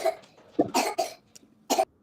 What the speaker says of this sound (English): Why y'all children's always coughing?